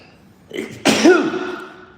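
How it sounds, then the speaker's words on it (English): A single loud sneeze up close, a short intake of breath followed by a sharp explosive burst that trails off. "I gotta sneeze"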